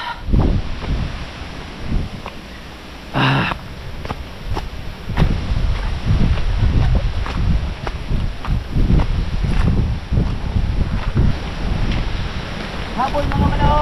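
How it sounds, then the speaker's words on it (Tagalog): Strong outdoor wind buffets the microphone in a steady, loud rush with repeated gusty bursts throughout, and brief voices are audible. "Lakas ng hangin."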